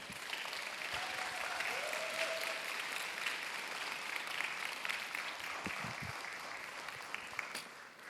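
An audience claps to welcome a chamber ensemble of violin, viola, cello, piano and soprano at a church youth worship service, with steady, even applause from a sizeable crowd throughout and no spoken words.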